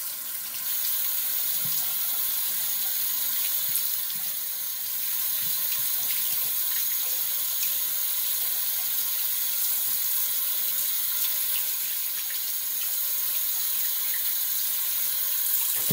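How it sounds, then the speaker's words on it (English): Warm water runs steadily from a bathroom tap into a sink before a straight razor shave, a continuous close hiss and splash with no talking. "So we're going to go with warm water"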